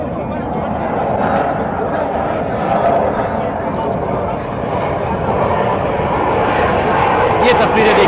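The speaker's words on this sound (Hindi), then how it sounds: "ये ना तो बहुत ज्यादा फास्ट है और ना बहुत ज्यादा हाइट पे है" An Indian Air Force military jet flying low and not very fast makes a broad, steady engine roar throughout, with people talking over it.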